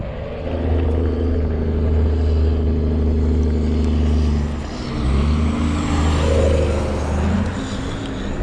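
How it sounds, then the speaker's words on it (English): Steady, loud engine rumble of passing traffic, a continuous low drone with a slight dip midway as vehicles roll by nearby. "Kind of having to talk over this traffic noise a little bit."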